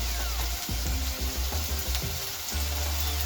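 Small onions sautéing with rock salt in a pan, a dense steady sizzle with a few stirring scrapes and taps, close and loud, no voices.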